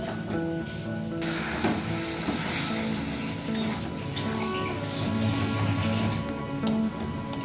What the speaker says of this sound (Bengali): সেই জলটা দিয়ে এবার মশলাটাকে আমি খুব ভালোভাবে আরও কিছুক্ষণ ধরে কষিয়ে নেব।